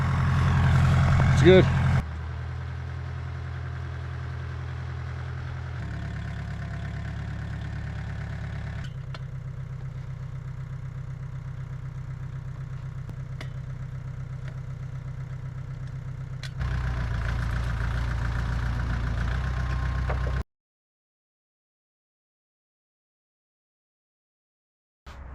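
A vehicle engine idles steadily while warming up in cold, freezing weather, a low constant drone that shifts level a few times before cutting out near the end, with a short spoken remark at the start.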